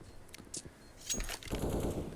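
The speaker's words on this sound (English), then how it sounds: "I can't hear myself think with all these guns firing" Bursts of rapid automatic gunfire and single shots in a Counter-Strike match on the Vertigo map, with sharp cracks building into a dense, loud volley toward the end.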